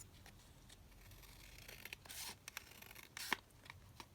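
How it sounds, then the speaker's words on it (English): Scissors trim a paper pocket page for a scrapbook layout, giving a few quiet snips and soft paper rubs close by, with one sharper cut near the end and no voices. "And I can just trim that down slightly more"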